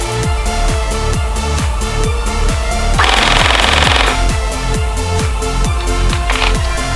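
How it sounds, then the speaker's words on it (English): A BF P90 gel blaster SMG on an 11.1 V airsoft battery fires a full magazine in one fast continuous burst of rapid, evenly spaced mechanical clacks that stays loud and steady for the whole run. "we'll do a mag empty test"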